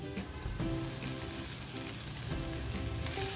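Potatoes stir-fried in a pan make a continuous, fairly faint sizzle with soft repeated stirring strokes, and no one speaks.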